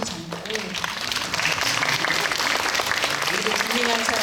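Audience applause fills a cinema auditorium during a live stage talk with film cast members, steady broadband clapping throughout with a voice speaking over it at the start and end.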